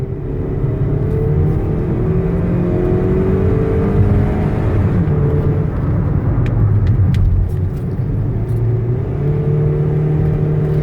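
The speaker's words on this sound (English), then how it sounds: "Get them out on the highway, let you hear the engine run, transmission shift." A 2016 Kia Sorento wheelchair-accessible SUV with a 4-cylinder engine accelerates on a highway, its loud engine drone rising and shifting in pitch through gear changes over steady road rumble, with a few faint clicks midway.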